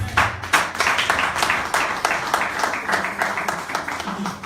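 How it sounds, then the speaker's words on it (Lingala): A church congregation claps and cheers in loud, sustained applause, many hands beating fast and close, with voices mixed in throughout. "On acclame très fort pour la gloire."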